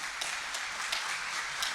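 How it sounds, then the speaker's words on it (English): An audience at a regional chamber of commerce monthly meeting applauding the board members, with dense, steady clapping filling the short stretch at an even level. "I want to give them a round of applause"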